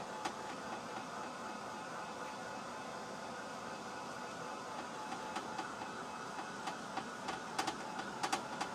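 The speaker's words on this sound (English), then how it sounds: "And this dryer gets really, really hot." A hot crafting dryer blows steadily over a placemat craft project, a constant whooshing fan hiss that stays even throughout, with faint ticks and clicks creeping in near the end.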